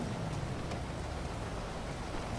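Rain falls in the open-world game Grand Theft Auto V, a soft, steady, even hiss of drops on road surfaces, faint and continuous throughout with no voices.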